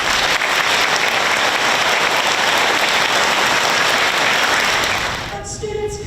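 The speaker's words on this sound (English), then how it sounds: "Principal Gill, could you please stand for a round of applause?" Dense, loud applause from a large elementary school audience holds steady for several seconds, then dies away abruptly at the end.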